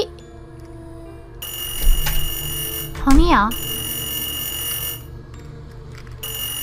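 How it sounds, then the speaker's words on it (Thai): A phone rings with an electronic, alarm-like tone in a short horror video game. The ringing runs through most of the clip, with a brief warbling sweep in the middle, while a voice speaks briefly over it. "เสียงโทรศัพท์ดัง"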